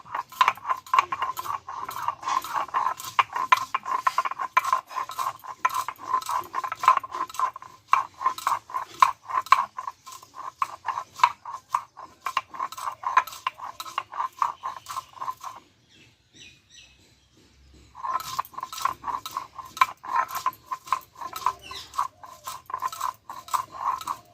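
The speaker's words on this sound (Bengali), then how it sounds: "আর এখানে দিব গোলমরিচ দিয়ে ভালোভাবে মিহি করে বেটে নেবো" Ginger and black pepper ground by hand into a fine paste, heard as a fast, steady run of rhythmic scraping grinding strokes, close and fairly loud, pausing briefly before resuming.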